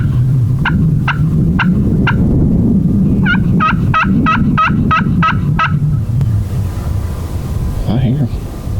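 A wild Rio turkey gobbles out in the open, a rapid rattling burst followed by a longer rolling gobble, fairly distant and buffeted by wind noise on the microphone.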